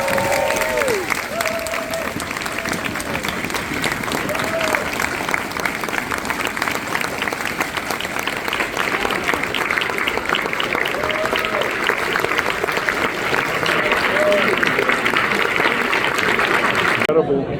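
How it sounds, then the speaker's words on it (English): Audience applause for a film director at a screening event, steady and sustained for the whole stretch with faint cheering and voices mixed into the crowd noise. "Please keep that round of applause going for director Piotr Krasama."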